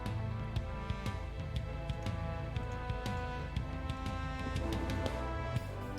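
A trombone plays a chorus line with subtle slide pitch bends between notes, carried over a full, dense backing with steady percussion hits throughout.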